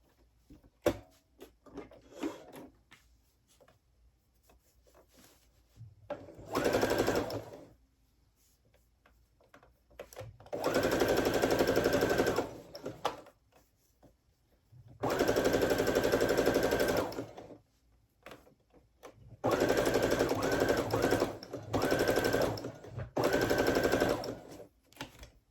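A sewing machine stitches plaid fabric for men's pants, running in several loud, steady bursts of a few seconds each, with quiet pauses between runs while the fabric is turned.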